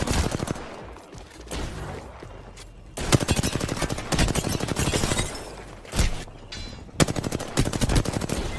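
R-301 rifle fire in the Apex Legends video game, heard as loud, rapid automatic bursts separated by brief pauses, close and dominant with no voices over it.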